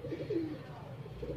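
Pigeons coo softly at close range, a few low, rounded calls repeating over a faint background, with no talking.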